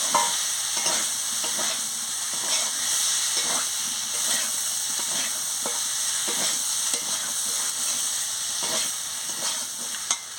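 Yam and potato being sautéed with lime juice in a pan: a steady close sizzle and hiss runs throughout, broken by irregular soft scrapes and stirring clicks.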